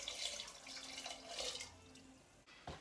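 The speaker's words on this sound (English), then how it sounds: "I'm going to fill this can up with water and pour some water into" Water pours from a can into a pot of chili con carne, a steady splashing rush that runs for a few seconds before trailing off, fairly close and alone.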